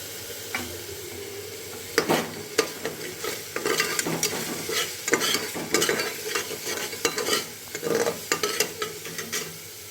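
Chilli powder and spices frying in a pan for Odia poei dalma, a steady sizzle broken by repeated sharp scraping strokes of a stirring spoon, close and moderately loud with no talk.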